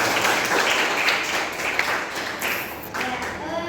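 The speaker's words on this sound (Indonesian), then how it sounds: "Tepuk tangan untuk kita semua." A class of students applauds together in a classroom, a steady wash of clapping from many hands lasting a few seconds, close and fairly loud, with some voices mixed in.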